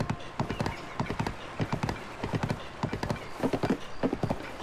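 Rapid clip-clopping hooves beat close by in a quick, uneven gallop, with a horse's whinny mixed in, from the video game The Legend of Zelda: Tears of the Kingdom.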